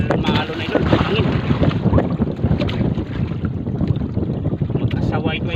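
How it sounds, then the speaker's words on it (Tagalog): Strong wind buffets the microphone on a small boat at sea during squid fishing, a steady rough roar with water and hull noise throughout, while someone speaks intermittently over it. "Hangin."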